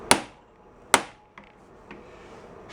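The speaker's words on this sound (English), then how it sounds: "this is an impact hammer" Two sharp, loud metallic strikes from a hand impact driver hit with a hammer on a screwdriver bit, working a fastener on an old Puch Sport moped, followed by a couple of fainter taps in a quiet workshop.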